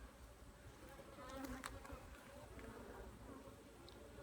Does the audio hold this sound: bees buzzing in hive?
yes